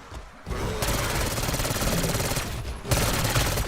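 Sustained rapid automatic gunfire from the Kompakt 92 submachine gun in Black Ops 6, a dense unbroken burst after a brief pause, cutting out near 2.8 seconds and then resuming, loud and close.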